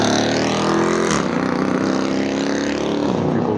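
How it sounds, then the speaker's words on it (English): A loud car engine revving hard on a street near a busy burrito drive-thru, a steady heavy roar that swells and drops slightly, close and dominant throughout. "People love showing off their loud-ass cars."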